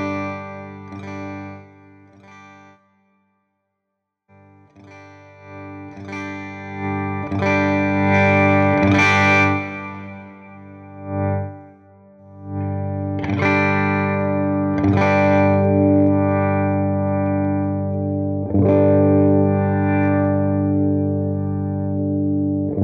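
A Gibson electric guitar with a Lawler P90 pickup, played through effects with distortion, chorus and reverb; loud sustained chords and struck notes ring out alone, with a brief gap early on.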